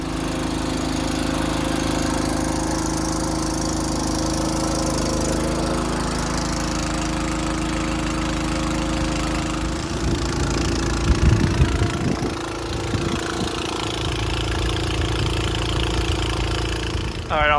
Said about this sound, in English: on this little fertilizer rig, this is the pump